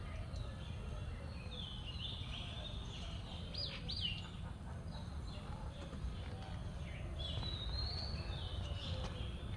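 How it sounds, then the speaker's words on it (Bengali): Several birds, including mynas, chirp and call around a historic pond in Barisal, scattered faint whistles and chirps over a low rumbling background. "ভেতরে দেখা যায় কিছু শালিক পাখি, বিভিন্ন ধরনের পোক পাখালি রয়েছে"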